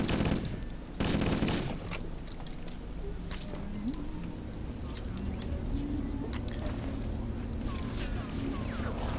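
Gunfire in Halo: Combat Evolved, opening with two loud bursts of rapid fire, then scattered distant shots and sharp impacts over a constant droning game background.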